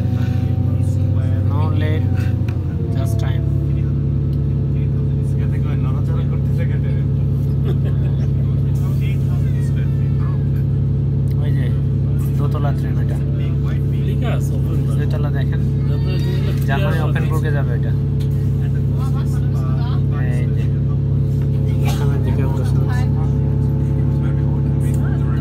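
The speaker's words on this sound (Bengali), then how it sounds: "শব্দ শোনা যাচ্ছে ৫:৪২, ৫:৪২ ট্রেনটা ছেড়ে দিল।" An electric train pulls out of a station in Switzerland with a loud, steady rumble and a hum that rises as the motors pick up speed. A person talks throughout.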